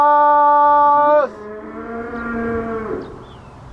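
Dairy cows and yearlings in a barnyard: a loud, close moo, long and drawn out, that drops in pitch partway through and then tails off, with no talking.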